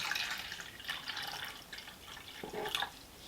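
Water trickles and drips as it overflows from a tarantula's water dish, a soft continuous splashing with a few brighter drips near the end.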